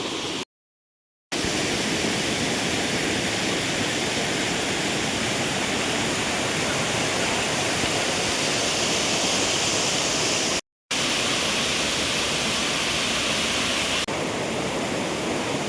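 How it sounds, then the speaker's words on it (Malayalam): Steady, loud rush of a small waterfall, continuous and close, with two brief dropouts; no voices. "ഒരു കൊച്ചു വെള്ളച്ചാട്ടം."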